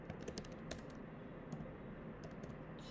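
Someone types on a computer keyboard in a quick, uneven run of close, crisp key clicks separated by short pauses, with no voices, and a faint hush sits underneath.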